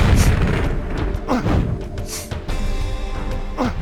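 Grenade-launcher blasts in Tomb Raider 3 rumble loud and close as a dense, booming roar, with a few sharper bursts breaking through the continuous low explosive noise.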